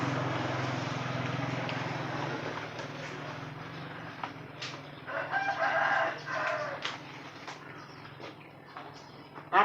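Roosters crowing and clucking at a rural cockfighting arena in Thailand, several calls rising in the second half over a steady background hum and crowd murmur.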